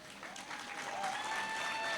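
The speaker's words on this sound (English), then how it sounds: "Give yourself a large hand of applause." Applause at the official opening of a TruBlue laundry, a fairly quiet, sustained clapping from a gathered crowd that swells slightly, with a faint tonal whistle or feedback line running through it.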